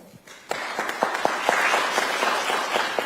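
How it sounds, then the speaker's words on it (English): An audience at a forum on Chinese freedom and US–Taiwan security applauds its panelists: a dense, steady round of clapping that swells in after a few scattered claps and continues evenly to the end. "Let's give them another round of applause"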